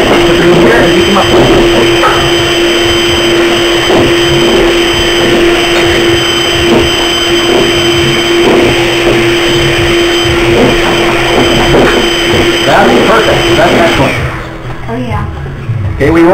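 An electric mixer beats egg yolks with a loud, steady whirring drone. The motor keeps running almost the whole time and drops away near the end.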